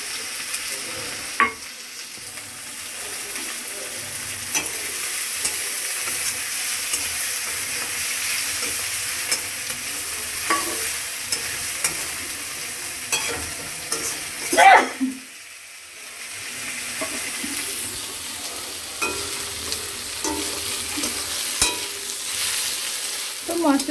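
Chopped onions and spices frying in hot oil in a pan for chicken curry, a steady sizzle broken by clacks and scrapes of stirring throughout, with a brief louder clatter midway.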